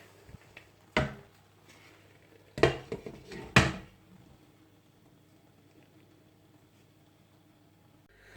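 Metal spoon clanking against a cooking pot while cooked okra and onion masala is served out, a few sharp scraping clinks in short bursts, then quiet kitchen background.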